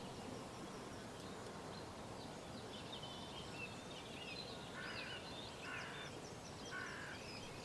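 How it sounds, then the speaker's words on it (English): Faint crows caw in the distance over a field, a few hoarse calls over a steady hiss of morning background noise. "Sounds like the crows are already out of their bed."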